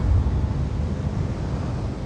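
Spacecraft engines in the video game The Invincible hold a steady low rumble, a dense continuous roar with no breaks, heard alone without talk.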